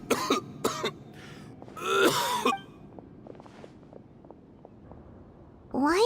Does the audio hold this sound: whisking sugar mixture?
no